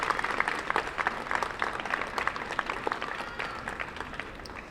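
Sustained applause from an audience thanking hospital staff at a welcoming ceremony for the AIDS Memorial Quilt at a San Francisco hospital, dense steady clapping that tapers slightly toward the end.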